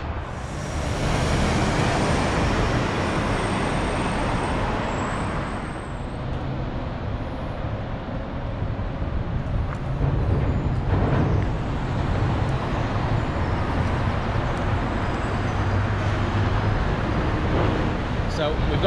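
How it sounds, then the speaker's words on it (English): Traffic crosses the M1 motorway bridge above a canal in Sheffield, with a rumbling roar and repeated dull thuds as cars pass over the bridge joint, heard under someone talking. "That thudding you can hear is actually the cars going over the joint on the bridge."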